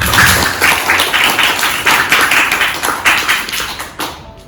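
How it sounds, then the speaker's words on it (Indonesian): A classroom of students claps together at a teacher-training lesson, loud and close, in pulsing rhythmic bursts that fade near the end. "Tepuk tangan dulu untuk kita."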